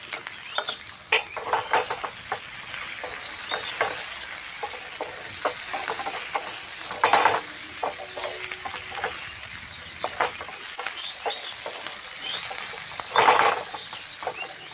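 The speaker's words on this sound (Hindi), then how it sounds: "प्याज और शिमला मिर्च फ्राई हो चुका है।" Sliced onion and capsicum sizzle steadily in a hot pan for chilli potato, with repeated scraping clicks of a spatula stirring through the crackling, close and continuous.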